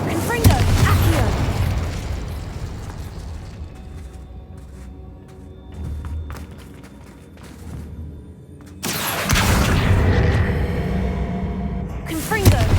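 Spell blasts and explosions from the Hogwarts Legacy video game: dense bursts and booming impacts at the start and again from about nine seconds on, with a quieter rumbling stretch between them.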